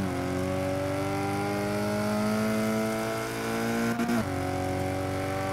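A Renault Alpine A110 race car in Forza 6 accelerates out of a corner, its engine note rising in a steady climbing whine, with a quick gear-change dip near the end before pulling on.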